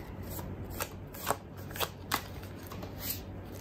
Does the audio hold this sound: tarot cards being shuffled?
yes